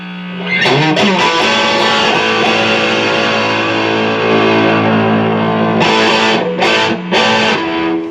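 An Epiphone Billie Joe Armstrong Signature Les Paul Jr. electric guitar plays distorted chords that ring out loud and sustained with gritty overdrive, followed by a few sharp strummed hits near the end.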